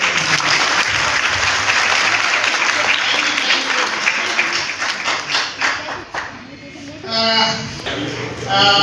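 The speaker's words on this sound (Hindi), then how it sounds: "फिर से ताली बजाओ।" A church crowd at a Christmas celebration in Mathura claps loudly and steadily, the applause thinning and fluttering before a voice speaks over it near the end.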